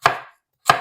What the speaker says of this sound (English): So I just come down here and chop the first part of the carrot.